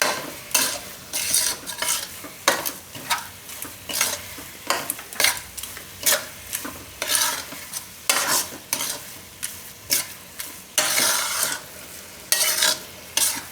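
Flour for sukhdi, a Gujarati winter sweet, is stirred as it roasts in a pan, with repeated scraping strokes of a spoon against the metal over a soft sizzle, steady and close, with no voices.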